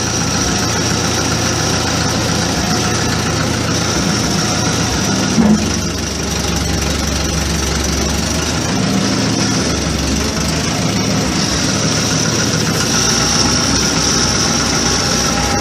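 An Allis Chalmers D17 tractor engine idles steadily in a barn, a continuous low rumble with a faint ticking valve rap, near and loud throughout with no talk.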